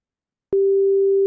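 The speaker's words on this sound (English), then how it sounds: "So let's hear if we hear a beep." A steady electronic beep tone played from Unity over Zoom starts abruptly and holds at one pitch, clean and loud with no other sound.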